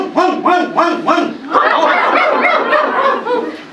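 A voice imitates a dog's bark in a children's song about animals: four short sung 'bow-wow' yelps in a steady rhythm, followed by continuous sung or chanted vocals.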